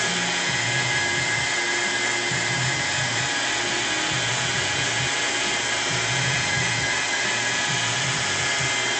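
Steady, continuous whir of a car paint buffer polishing a panel, loud and close with an even drone throughout and no speech.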